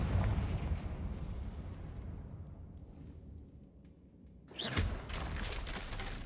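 A blasting-spell explosion in the video game Hogwarts Legacy: a booming burst that decays into rumble, then a second sharp blast near the end, loud and close.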